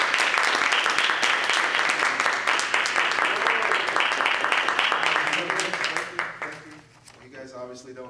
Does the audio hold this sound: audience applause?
yes